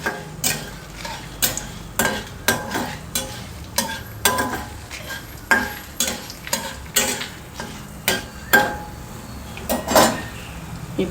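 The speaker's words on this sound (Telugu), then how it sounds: "ఎండుమిర్చి వేస్తున్నాను. ఇప్పుడు మనం వాటిని బాగా వేయించుకోవాలి" Tomatoes and dried red chillies frying in a pan, a low sizzle under a steady run of sharp, regular spatula scrapes and taps against the metal, close and clear with no talking.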